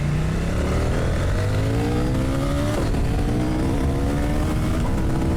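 A CFMOTO 800NK motorcycle revs hard under acceleration, its engine note climbing steadily in pitch, then dropping and climbing again as it reaches the rev limiter. The sound is loud, close and continuous, with no voices.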